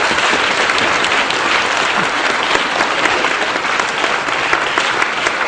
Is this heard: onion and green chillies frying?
no